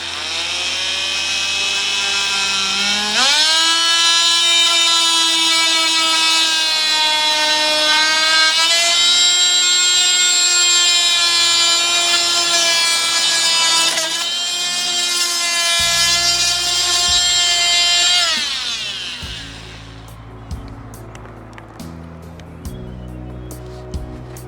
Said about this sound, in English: This should make easy work of this versus a hacksaw. A lot of people use a hacksaw to cut this, but I'm going to use my vibration tool.